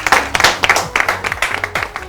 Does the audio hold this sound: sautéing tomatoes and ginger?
no